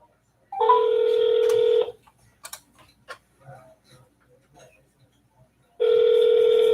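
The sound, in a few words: telephone dialing a number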